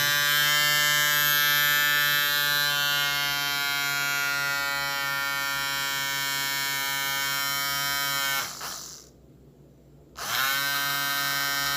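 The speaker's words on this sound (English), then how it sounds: "we are getting our DC from the DC motor" Small DC motor in a DIY generator rig feeding a 12V-to-220V inverter, a steady close electric whine and buzz with strong harmonics, briefly dropping and muffling for about a second near the end before resuming.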